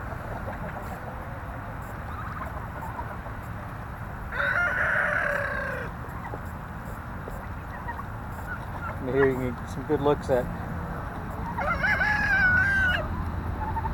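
Chickens and roosters on a farm cluck steadily in the background while two loud rooster crows ring out several seconds apart, under a voice talking.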